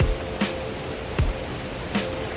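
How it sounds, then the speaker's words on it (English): Heavy rain falling in a Costa Rican rainforest produces a steady, soft hiss of drops on foliage and surfaces, quiet and continuous, broken by a few brief louder splashes. "it is raining too much for us to be able to swim"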